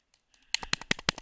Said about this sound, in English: That's the sound of me hitting the dodge button.